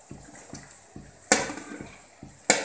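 Keri gunda (lesoda) pieces drop into a pan with turmeric-spiced oil for frying, giving a few sharp clattering clinks over a soft sizzle in a close, quiet kitchen.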